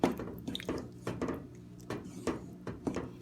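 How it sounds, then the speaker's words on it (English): Twelve ounces of coconut milk stirred into a pot of soup, giving a series of soft, wet, squishy strokes in a steady rhythm, close and moderately quiet. "All I'm going to do is add 12 ounces of coconut milk right to that pot. And I'm just going to mix that up."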